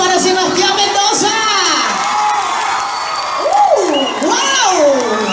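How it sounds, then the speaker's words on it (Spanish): A live session crowd cheers and applauds for Sebastián Mendoza, with shouts, whoops and excited children's voices rising and falling over lighter clapping. "¡Los aplausos para Sebastián Mendoza!"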